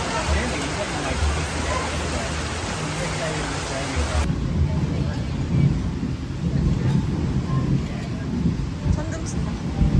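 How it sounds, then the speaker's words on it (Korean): Rainstorm with thunder during a trip in Bohol: a heavy broadband rush of rain with low rumbling underneath, the wash dropping partway through while low rumble and voices continue. "천둥 친다."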